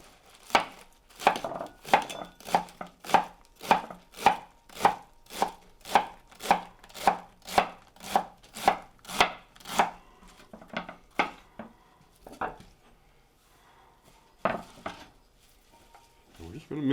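Savoy cabbage being chopped for slaw, a close run of about fifteen regular knife strokes on a board, then a pause and a few scattered cuts.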